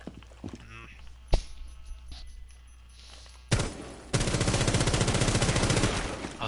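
Gunfire in the tactical shooter Rainbow Six Siege, a short sharp shot followed by a loud sustained rapid stream of rounds near the end, with background game noise.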